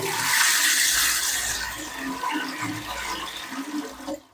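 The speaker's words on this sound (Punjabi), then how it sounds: "ਜਦੋਂ ਜਦੋਂ ਆਪਾਂ ਪਾਣੀ ਨੂੰ ਫਲਸ਼ ਕਰਾਂਗੇ" A household toilet flushes nearby with a loud rushing surge of water that slowly tapers into gurgling refill, ending in a sharp click.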